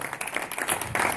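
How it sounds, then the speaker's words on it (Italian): Audience at a tribute show claps in brief, uneven bursts, fairly faint and scattered rather than a full ovation. "Quindi fatevi un applauso"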